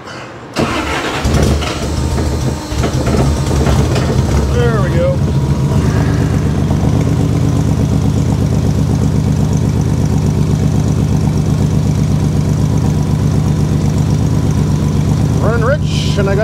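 A Toyota Supra MkII running a Holley Dominator ECU with an untuned fuel table cranks and catches at the start, then settles into a loud, steady, slightly uneven idle close by for the rest.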